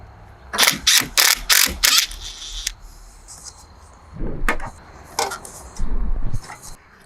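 Ratchet working 10 mm battery terminal bolts on a 2015-2020 Chevrolet Suburban, a quick burst of sharp metallic clicks followed by scattered clanks and handling sounds, close by without speech.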